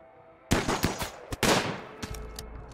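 Gunfire in the colony-simulation video game RimWorld crackles as a quick burst of several sharp shots, followed by a couple of softer trailing pops, with no talk over it.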